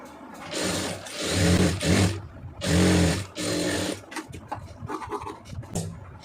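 A sewing machine stitches a blouse lining in several quick, close bursts of whirring and clatter with short pauses between, ending in softer scattered handling noises.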